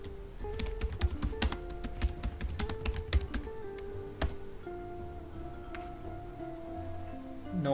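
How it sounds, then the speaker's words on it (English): Fingers type on a computer keyboard in quick irregular bursts of crisp clicks, followed by a few isolated keystrokes and a softer stretch, close and fairly quiet with no talking. "Now type here anything you want to see, like I'm typing"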